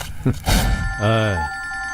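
A telephone rings with a bright electronic ringtone under a loud, nearby dialogue scene in an action movie; two short bursts, then a sustained melodic ring, with people talking over it.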